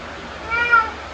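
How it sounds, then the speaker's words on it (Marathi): A single cat gives one short, clear meow close by, with no talk over it. "तू काय आहे तू मांजर आहे"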